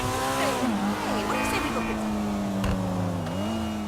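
A Vapid Flash GT in the video game GTA 5 gives a raspy engine note that rises and falls in pitch with revving. The loud, continuous sound lasts throughout.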